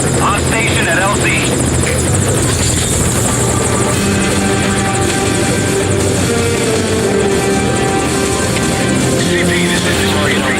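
Helicopter hovering in the video game Metal Gear Solid V: Ground Zeroes, a loud steady rotor thrum and engine whine filling the scene throughout, with radio voices speaking over it.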